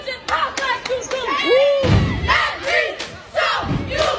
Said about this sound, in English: He sampled this random video of high school cheerleaders doing this pretty sick cheer, honestly.